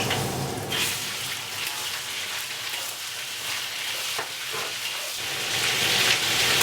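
Beef hits a hot wok for red-braised beef, producing a loud, continuous hissing sizzle like heavy rain that holds steady and swells slightly toward the end.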